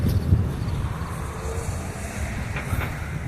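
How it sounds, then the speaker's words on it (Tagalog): Steady wind buffeting and rumbling across the whole stretch in a park in Jeddah, a broad continuous roar with gusty low thumps, and no one talking. "Kaya kita nyo, mahangin."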